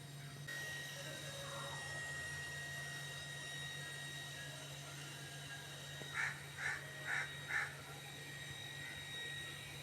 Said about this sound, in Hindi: तो देखिए जी इधर कौवा भी बोल रहा है